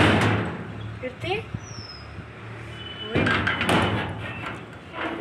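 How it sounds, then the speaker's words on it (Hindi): Wind-blown door thuds and rattles repeatedly in gusty wind, with someone talking over the noise and a brief whistle-like tone in between. "भी दरवाज़ा आवाज़ कर रहा है"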